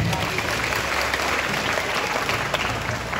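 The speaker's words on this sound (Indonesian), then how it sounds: "Tepuk tangan deh." Applause at a school spiritual-building and parenting training session, a sustained, even roar of many people clapping together, steady and fairly loud throughout.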